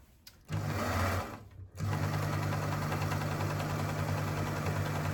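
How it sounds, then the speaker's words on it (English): A sewing machine runs a straight stitch through fabric for a gift bag, giving a steady, close, loud mechanical whirr that starts, pauses briefly, then resumes and continues evenly to the end. "I am now just doing a straight stitch."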